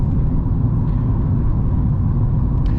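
Cabin of a Renault Megane 3 with a 110 hp engine rolling over cold asphalt: a constant low tyre and road rumble fills the interior, steady and unbroken, with no voices.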